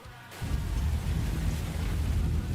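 Hailstorm in the Roblox storm-chasing game Twisted, a sudden loud onset of dense rumbling, pelting noise that stays broad and steady, close and continuous to the end without speech.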